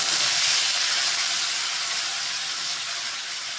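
Garlic, onion and green chili paste sizzles in hot oil for a kofta curry, a continuous close bright hiss that fades slightly toward the end, with no talk.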